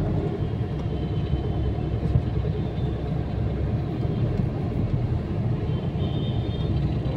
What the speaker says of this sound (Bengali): দেখতে পাচ্ছেন প্রচণ্ড জ্যাম এখন।